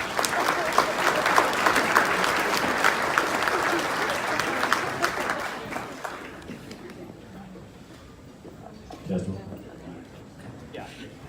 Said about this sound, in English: A big applause for you guys